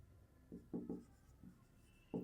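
Pen strokes on paper while working out a parallelogram area problem for a 7th-grade maths lesson, several short quiet scratchy bursts with brief pauses between them, close and faint.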